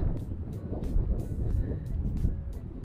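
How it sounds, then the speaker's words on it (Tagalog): Cold night wind blowing outdoors behind a house, a steady low rumbling rush with gusty buffeting, loud and continuous with no talk. "Lamig yung hangin."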